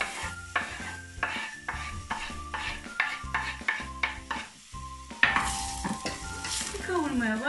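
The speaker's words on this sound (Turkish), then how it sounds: "Bir kavurmaya başlıyorum." Steady frying sizzle of chopped onions in oil in a pot, with a spoon scraping and stirring in repeated strokes, close and fairly loud.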